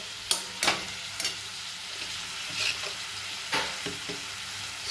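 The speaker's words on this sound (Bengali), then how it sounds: "বড়িটা দিয়ে একসঙ্গে আমাকে নাড়াচাড়া করতে হবে ভালো করে।" Fried lentil dumplings (bori) being stirred with ridge gourd and potato in a pan, broadband sizzle with several sharp scraping strokes of a spatula spaced irregularly, close and moderately loud, no voices.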